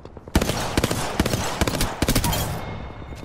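Apex Legends gunfire rings out as sharp, loud, close shots in quick irregular bursts, with a rapid cluster near the end and a dense battle din underneath.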